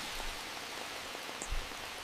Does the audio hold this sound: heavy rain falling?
yes